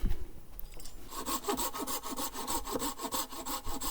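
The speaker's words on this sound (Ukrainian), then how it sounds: "Так, там Росі вже дрова готує. Нарізаємо." A hand saw cuts firewood in a forest, with steady rhythmic strokes rasping back and forth up close after a brief quieter start.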